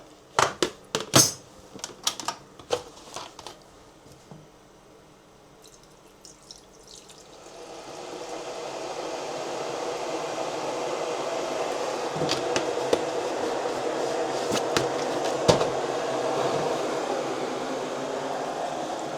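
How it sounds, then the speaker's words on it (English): A hot water dispenser in a motorhome kitchen, used for making tea and coffee: a few sharp clicks and taps come first, then a steady rushing pour of water builds and runs on continuously, close by. "hot water dispenser. That's what I make our tea and coffee with."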